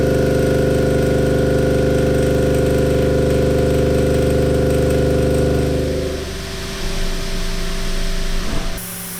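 A CNC lathe turning at a doubled feed rate, roughly 14 inches a minute, gives off a loud, steady machine drone with tonal hum that drops and roughens in the last few seconds.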